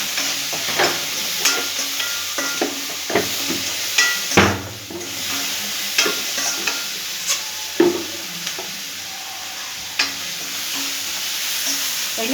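Chapati noodles sizzle steadily in an oiled pan, with a constant frying hiss broken by frequent scraping and clinking stirs of a spatula at an irregular, close rhythm; no voices.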